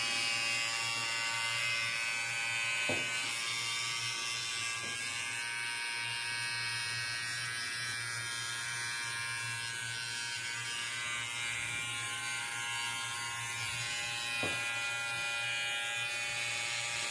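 A running electric beard trimmer buzzes steadily and close by, with a constant motor hum and a few faint clicks.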